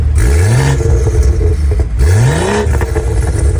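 A BMW 540 with a Stage 2 tune revs its exhaust twice, loud and close. Each rev climbs sharply in pitch, then drops back to a rumbling idle.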